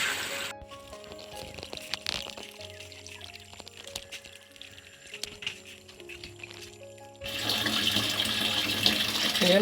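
Water rushes and splashes close by from a repaired supply pipe, hushing for a while under clanks and hums, then surging back to a strong, steady flow at the end.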